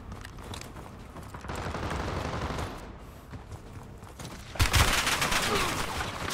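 Gunfire in Black Ops 6, rapid bursts echoing from mid-distance, then a louder, closer burst near the end over a steady background din.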